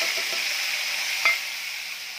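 Tomato masala hitting fried fish in a hot pan, giving a steady close sizzle with a few soft stirring scrapes and one sharper clack from the spoon, no voices.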